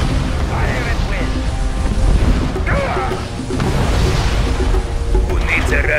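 Artillery and heavy weapons firing in the real-time strategy game Mental Omega, with booming blasts and crashes recurring every second or two, mixed with unit voice responses and game chatter.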